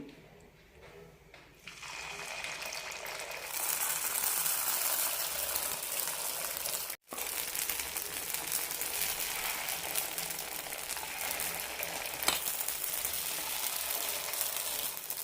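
Batter hits an oiled kuzhi paniyaram pan and breaks into a steady, bright sizzle that starts after a quiet moment and keeps going, with a brief cut partway through.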